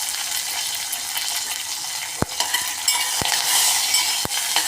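Hing, curry leaves and chilli pieces crackle in hot oil with the gas turned off, a soft, even hiss broken by three sharp clicks of a utensil, no talking.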